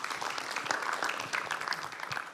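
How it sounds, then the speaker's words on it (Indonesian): Audience in an Indonesian TV talk show studio in Yogyakarta applauding, a steady dense patter of clapping that stays fairly even throughout, with no one speaking over it. "tepuk tangan dulu untuk Ibu."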